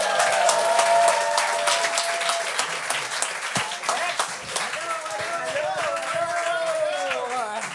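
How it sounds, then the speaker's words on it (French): Studio audience on a French-language TV game show bursts into loud, sustained applause and cheering to welcome a guest, with a host's voice and other talk heard over the clapping. "On accueille avec un tonnerre d'applaudissements Alexandre Forêt!"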